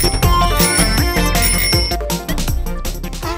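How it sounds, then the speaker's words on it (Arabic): A bicycle bell rings several times in quick succession, bright and close, mixed into a busy, loud musical backing with no talking. "لقد سمعت الجرس"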